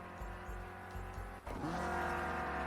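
A Renault Clio Cup race car at Oulton Park drones past with a steady engine tone, shifting pitch as it slows and dives into the pits, fairly faint with no voices.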